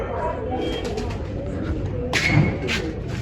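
Pet pigeons coo softly in the background under an ongoing conversation, a few low rolling coos mixed with light shuffling and one small thump.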